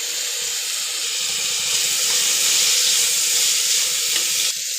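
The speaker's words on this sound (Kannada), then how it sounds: "ಇದು ಫ್ರೈ ಮಾಡ್ಕೊತಾ ಇದ್ದೀನಿ." Tomatoes with turmeric and salt fry in a pan for a menthya palav, giving a steady, close sizzle throughout with no talking.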